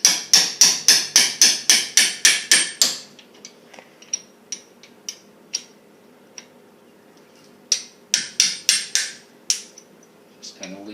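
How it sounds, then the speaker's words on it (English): Brake caliper bolts on a 2008 Chevy Impala being tapped with a 1/2 inch wrench: a fast, even run of about a dozen sharp metallic knocks, a pause with scattered lighter taps, then another burst of rapid strikes, loud and close. "So what we'll do is we'll tap these with a 1/2 inch wrench."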